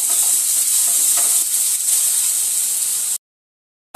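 Washed, cut potatoes fry in hot oil, giving a loud, close, bright hiss and sizzle for about three seconds before cutting to silence, with a short burst returning at the very end.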